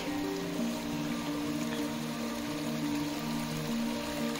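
A stream of water crosses a trail deep in a mountain jungle near Guptkashi, giving a soft, steady trickling wash that runs evenly throughout at a modest distance.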